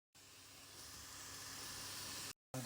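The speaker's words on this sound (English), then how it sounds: "You start by finely chopping and frying the leek." A steady hiss and sizzle of finely chopped leek frying in a hot pan, close by and rising slightly before cutting off abruptly.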